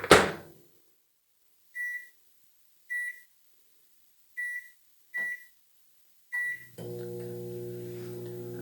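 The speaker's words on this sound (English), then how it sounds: "you want to go stick it in your microwave oven for 9 minutes" Kitchen microwave oven: a door thunk, then five short evenly spaced beeps as buttons are pressed, followed by the steady low hum of the oven starting up.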